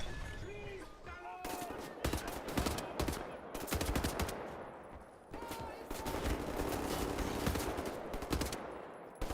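Video game gunfire comes in bursts of rapid sharp shots, with several dense volleys and short pauses between them, loud and close.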